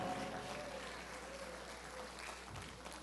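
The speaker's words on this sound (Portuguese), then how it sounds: "Mais forte essas palmas" A church congregation applauding, a broad continuous wash of clapping heard from a distance in a reverberant room, fairly faint and steady with a low hum beneath.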